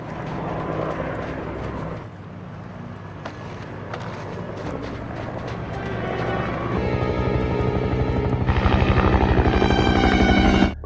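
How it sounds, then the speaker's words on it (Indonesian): A loud, steady mechanical roar with a rhythmic thudding beat that swells and grows louder toward the end, like a helicopter approaching overhead. "Tapi tiba-tiba mereka mendengar suara helikopter."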